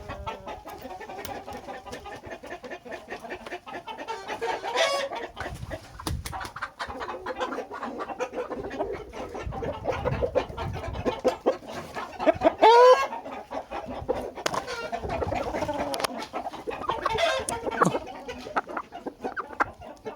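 Young roosters and chickens about five and a half months old cluck and call close by in a steady, irregular chorus with scattered louder squawks.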